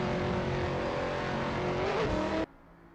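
Race cars roaring together in an AI-driven racing video game, a dense continuous engine drone at steady loudness that cuts off abruptly near the end, leaving only a faint low hum.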